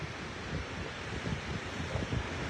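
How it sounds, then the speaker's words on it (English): Southern Ocean waves rolling into Loch Ard Gorge near the Razorback on a winter morning, a steady low roar of surf with wind buffeting the microphone throughout. "We're going to watch a set slide in from the Southern Ocean"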